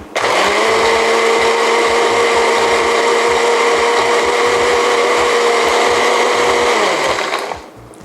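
A kitchen blender whirs loudly, pureeing bird's eye chilies, garlic and water in one steady high-pitched motor run of about seven seconds before winding down.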